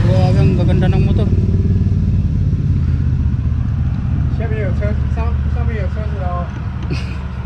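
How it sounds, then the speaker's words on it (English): Motorcycles on a mountain road roar steadily and loudly close by, with engine revs rising and falling throughout while someone talks over the noise. "Wow, itong mga motor na to, the best."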